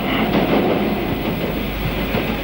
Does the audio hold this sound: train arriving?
yes